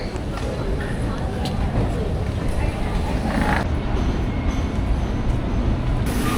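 A Sydney commuter train pulls into a busy station platform, a sustained rumble and rolling clatter with brief hisses and squeals as it slows, loud and near amid ambient station noise.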